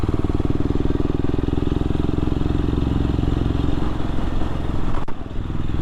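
A Royal Enfield Scram 411 motorcycle set up as a touring bike idles close by, its single-cylinder engine thumping in a loud, steady, rapid pulse that dips briefly near the end.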